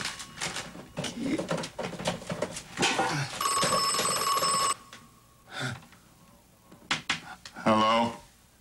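A telephone bell rings in one sustained burst of about a second and a half, bright and close, amid household clatter and people talking before and after.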